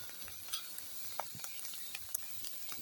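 Chopped onion, tomato and green chilli fry together in a pan with salt and ground coriander: a faint, low sizzle with a few scattered clicks and scrapes of stirring.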